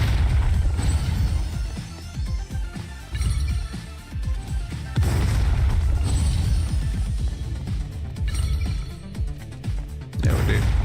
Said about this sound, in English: You're shooting shotguns here.